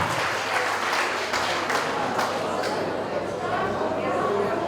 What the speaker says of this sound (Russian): Все аплодисменты ваши.